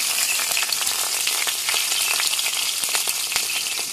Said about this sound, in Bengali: এখানে পেঁয়াজটা আমি বেশি ভাজবো না, মানে হালকা করে ভাজিয়ে দেবো